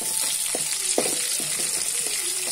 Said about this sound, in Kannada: ಉದ್ದಿನಕಾಳು ಮತ್ತು ಸಾಸಿವೆ ಒಳ್ಳೆ ಫ್ರೈ ಆಗಿದೆ ಇಲ್ಲಿ